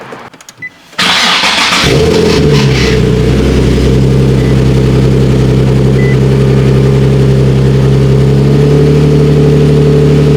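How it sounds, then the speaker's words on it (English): A Nissan 370Z starts up at close range and settles into a loud, steady idle, its low tonal hum holding evenly after a brief crank and rise in revs. "So the car's just idling."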